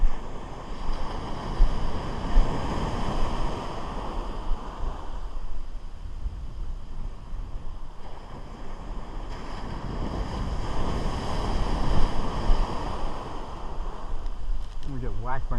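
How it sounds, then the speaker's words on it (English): Big ocean waves break on a beach, a rolling roar that swells and recedes in surges, mixed with wind buffeting the microphone and a voice speaking briefly near the end. "I'm gonna get whacked by any of these big waves"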